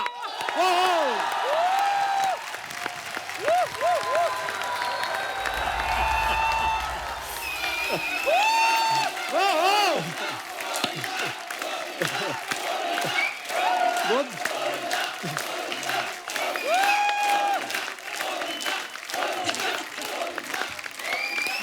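Studio audience applause for film star Govinda at a comedy talk show, a sustained wash of clapping and cheering with whoops, while a voice speaks and melodic tones rise over it.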